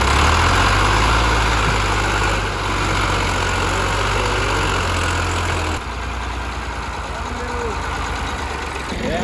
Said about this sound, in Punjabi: ਚੱਲਾ ਟਰੈਕਟਰ ਹੁਣ।